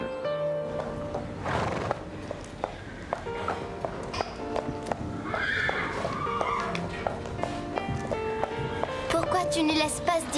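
A mare neighs and whinnies while her hooves clip-clop, close and clear, with voices and faint music in the background.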